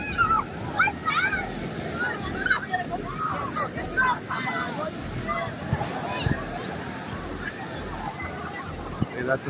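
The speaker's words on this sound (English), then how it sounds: "waves are coming in over here on this side." Ocean surf washing in at Santa Monica Beach near the pier, a steady broadband wash under a busy beach atmosphere with scattered voices and bird calls nearby.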